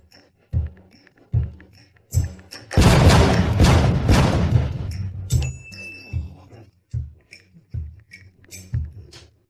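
A burst of gunfire around the middle, loud and sustained for a few seconds, framed by scattered thumps and knocks before and after.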